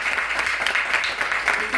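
A short burst of audience applause in a hall at a network marketing event, continuous and moderately loud across the whole moment.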